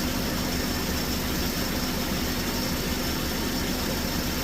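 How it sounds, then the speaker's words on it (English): A car engine idles steadily with a slightly rough, uneven note, an exhaust fan whirring constantly alongside it, close and continuous with no voices. "trying to talk over the engine and the exhaust fan, it's a little bit rough"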